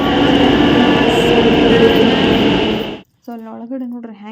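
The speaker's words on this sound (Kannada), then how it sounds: "ಸೊ ಅಲ್ಲಿ ಒಳಗಡೆ ನೋಡ್ರಿ ಹೆಂಗೆ ಕಾಣಿಸ್ತೈತಿ ಮೆಟ್ರೋ" A Bangalore metro train running, heard as a loud, steady roar of wheels and motor rumble close by for about three seconds, then cutting off abruptly before a voice begins speaking.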